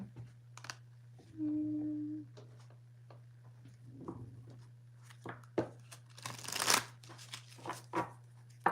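A deck of cards is riffled and shuffled in quick crisp bursts over a low steady hum, with a brief tone and some faint handling noises.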